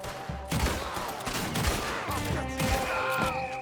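Rapid, dense gunfire from a Red Dead Redemption 2 shootout, a loud continuous fusillade of overlapping shots with sharp bursts throughout, up close and without talk.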